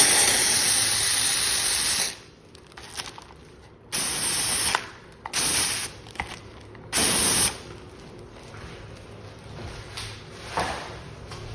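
A can of spray wall texture is sprayed to clear its nozzle, giving several loud close hissing bursts, a long one first and then three shorter blasts separated by quieter gaps.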